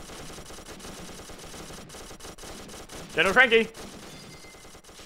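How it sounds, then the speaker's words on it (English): Minecraft World War 2 fort siege battle with machine gun fire crackling as a steady, fairly quiet rapid patter, while a voice shouts briefly over it midway. "I'm getting back on my machine gun."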